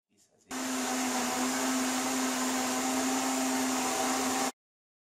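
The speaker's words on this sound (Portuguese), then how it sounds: "Vamos bater tudo no liquidificador." A blender mixing cake batter of raw rice, milk and oil runs steadily at high speed for about four seconds with a constant motor whine, then cuts off abruptly.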